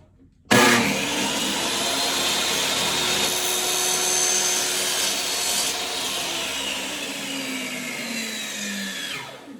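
A power saw cutting an angle into a wooden rail for an octagon crokinole board, a loud steady whining buzz with rasping wood contact starting abruptly and running for several seconds before winding down, no talking.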